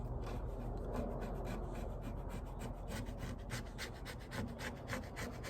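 Steady scraping on the wooden parts of a Singer treadle sewing machine under restoration, a close, quiet rasping stroke repeated in an even rhythm with no voices.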